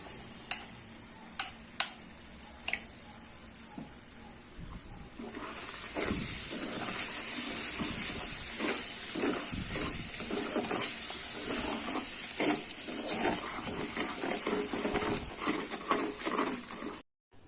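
Cashew burfi mixture stirred in a pan over a medium flame: a few sparse taps at first, then a steady hiss and sizzle with scraping stir strokes continuing for over ten seconds.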